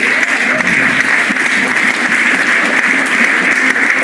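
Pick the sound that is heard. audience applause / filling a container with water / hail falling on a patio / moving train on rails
audience applause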